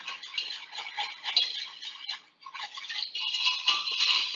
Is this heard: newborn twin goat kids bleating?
no